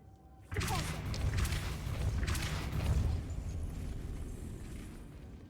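A Depulso spell cast in Hogwarts Legacy sets off a sudden loud whooshing burst, followed by a sustained rumbling blast that slowly fades over a few seconds.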